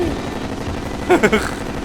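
Gunfire in Terraria during a Moon Lord boss fight, heard as a short cluster of three or four quick shots rising out of a steady background of game noise.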